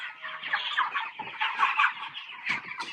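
Cornish cross meat chickens cluck and chatter continuously at close range on a farm, a busy overlapping flock murmur with no voices.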